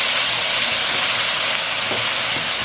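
Food sears and chars in a hot pan while being tossed with a spoon, giving a steady, loud hiss that stays constant with no talking.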